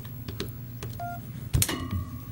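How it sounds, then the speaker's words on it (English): A phone is plugged into an electrical wall outlet plate with built-in USB ports, and a few soft, short electronic beeps follow amid light handling clicks and clatter. "Heard the beep."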